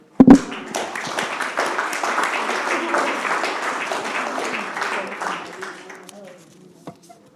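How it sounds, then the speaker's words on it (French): Conference audience at an association's general assembly breaks into sustained applause, a dense steady clatter of many hands that starts with a sharp burst, holds for several seconds, then tapers off near the end. "rien que pour cela, je veux vous applaudir."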